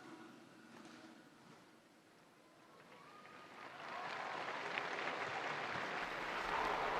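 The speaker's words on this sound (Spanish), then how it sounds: "el aplauso de los fieles congregados en la plaza de San Pedro acoge la bendición del Santo Padre" Faithful gathered in St Peter's Square applaud after a papal blessing, a distant crowd clapping that swells from faint to a broad, sustained wash in the second half.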